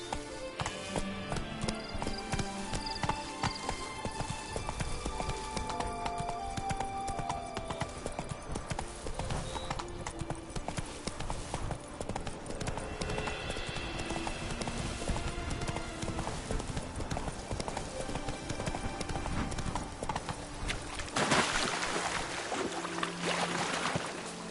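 Roach, the horse in The Witcher 3, gallops with steady, rapid hoofbeats layered over game music and ambience. The rhythm continues throughout, with a louder swell near the end.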